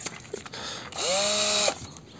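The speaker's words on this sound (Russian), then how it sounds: "Машина сверлильная." A small cordless drill with a weak battery whirs up to speed for about a second, then winds down, with a few clicks and handling noises around it.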